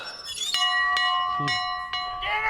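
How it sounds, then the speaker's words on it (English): A hand bell rings several times in quick bright clangs, close by, its metallic tone ringing on between strikes. "Should have known John would find the bell."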